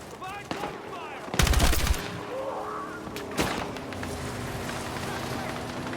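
Battlefield 6 gunfire arrives in loud bursts, including a dense volley around the middle and a sharp later shot, over battlefield ambience with shouted voices between the shots.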